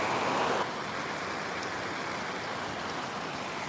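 Heavy rain pours down in Dhaka with no wind, a dense, steady hiss of water that swells slightly louder for the first half second and then settles into an even, continuous wash.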